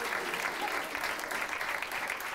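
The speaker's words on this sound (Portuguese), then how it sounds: "Um salve de palmas para o Ruben" Audience at a Portuguese stand-up comedy show clapping for comedian Rúben, a dense, even burst of applause heard faintly and from some distance.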